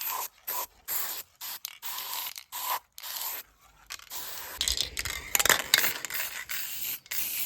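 An aerosol can of etch primer hisses in short bursts onto car rear brake parts, with a steady run of close, loud sprays, some choppy and some longer, plus light scraping handling noises.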